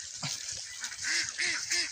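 Domestic ducks kept at a house give a run of loud, nasal honking calls in quick succession, several close squawks overlapping with a rough, raspy background.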